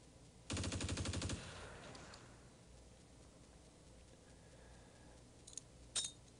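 Squads trade fire in the World War II game Close Combat on Crete, opening with a loud, close machine-gun burst of about a second, followed by quiet and a couple of short, sharp shots near the end.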